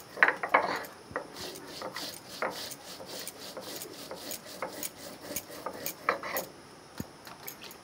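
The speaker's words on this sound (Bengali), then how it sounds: "এই দেখুন, জিরেটা বেটে নেবো। শিলে বাটতে হবে" Cumin being ground on a stone slab (shil) with a grinding stone, irregular scraping and rubbing strokes close by, some louder rasps among quieter passes, with no talk.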